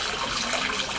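Water poured from a ladle at the purification basin of Kamigamo Shrine in Kyoto, Japan, making a steady splashing gush, close and moderately quiet, with no voices.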